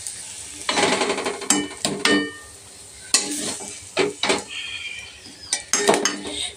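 A pan of fried greens is lifted off the stove, with loud clattering of metal cookware and utensil scrapes in bursts over a faint sizzle.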